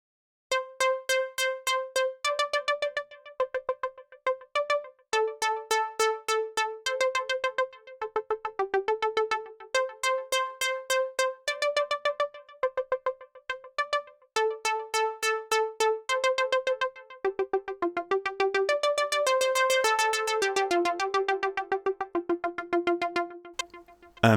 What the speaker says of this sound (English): It's Alchemy with the preset Atheist Pop Synth